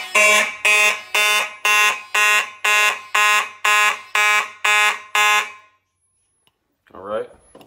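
Loud fire alarm horns from a Simplex 4005 fire alarm system test blare in a steady rhythm, about ten evenly spaced blasts, then stop; a brief voice speaks afterward.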